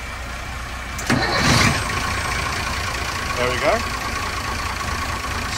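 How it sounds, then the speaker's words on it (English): The port engine of a Weymouth 32 motor boat cranks and fires from cold about a second in, then settles into a steady, close, even idle rumble, with someone speaking briefly over it. "And if you could start the port engine, please."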